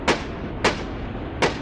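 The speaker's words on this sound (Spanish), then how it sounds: "El tren volvió a avanzar y entonces se escucharon balazos." Three sharp gunshot effects crack out, evenly spaced, over a steady low rumble, set as shots fired inside a Mexico City metro station in a horror tale.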